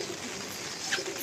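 Flying pigeons, solid red birds, coo softly in a short, faint, low murmur close by, with a quiet bird call rising briefly near the end.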